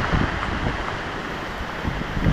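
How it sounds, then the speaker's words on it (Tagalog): Strong typhoon wind blows steadily in a continuous broadband roar with gusty buffeting against the microphone, loud and close, with no voices. "Lakas din ng hangin."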